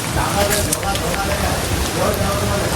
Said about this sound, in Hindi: ये रही ठंडी ठंडी बारिश